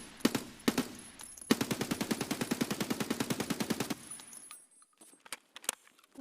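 A short-barrel AK rifle fires in Escape from Tarkov: two single shots, then a fast full-auto burst of about twenty evenly spaced cracks lasting over two seconds, then a few sparse shots after a pause.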